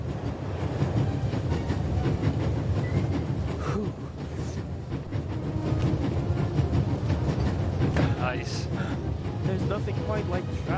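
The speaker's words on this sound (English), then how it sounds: "quite like traveling on a train" A train rolls along in The Raven Remastered video game, a steady rumbling ride with rhythmic rail clicks, while a person talks over it throughout.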